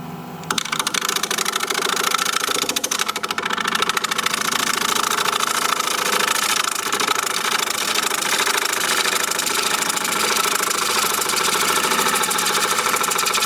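Woodturning tool being sharpened, probably on a grinder, producing a loud, steady mechanical drone with a gritty, slightly fluttering texture that runs continuously after a quiet first half second.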